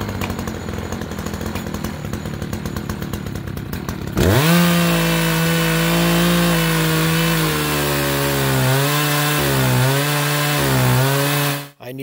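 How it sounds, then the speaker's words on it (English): A homebuilt chainsaw mill with a larger chainsaw fitted to a strengthened carriage rips through wood, starting after a few seconds of background noise with a loud, steady engine drone that dips and recovers under load before cutting off near the end. "when I upgraded to a larger chainsaw"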